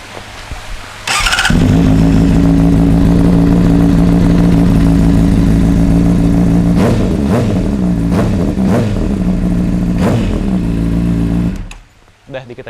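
Honda CBR600RR motorcycle with a titanium Aero full-system exhaust, started up close and held at a loud, steady high idle with several sharp throttle blips before cutting off in a residential setting.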